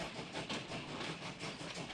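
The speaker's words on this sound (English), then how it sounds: "There's the jerks and the jolts of this noisy freight train." A noisy freight train rolls along the rails with a steady, dense rumble and rattle of cars, with clattering jolts running through it throughout, close and continuous.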